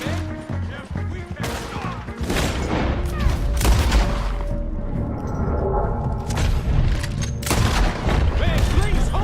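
Rapid gunfire crackles through a video-game shootout in Red Dead Redemption 2, with dense bursts of shots and impacts layered under game music and talk.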